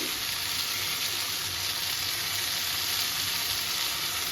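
Pieces of lote (Bombay duck) fish frying in a pan over lowered gas flame, giving a steady, close, continuous sizzle with no voices.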